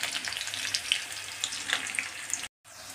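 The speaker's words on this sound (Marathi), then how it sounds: "छान झाली मिरची फ्राय." Green chillies frying in hot oil, a close, steady crackling sizzle with small pops throughout, broken by a brief silence near the end.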